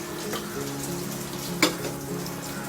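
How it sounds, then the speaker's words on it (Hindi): Asafoetida and red chili dropped into hot oil for a tadka, giving a steady close sizzle and crackle with one sharp pop partway through. "इसमें हम डालेंगे अभी थोड़ी सी हींग डालेंगे और थोड़ी सी लाल मिर्ची"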